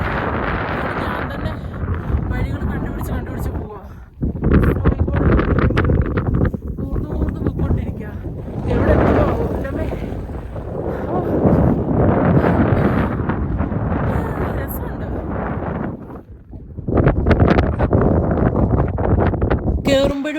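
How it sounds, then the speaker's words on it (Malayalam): Strong snowy wind on the descent from the Kedarkantha summit roars into the microphone in heavy gusts, dropping briefly near the middle and again before the end. "ഇറങ്ങുമ്പോഴും നല്ല രീതിക്കുള്ള സ്നോ കാറ്റടിക്കുന്നുണ്ടായിരുന്നു"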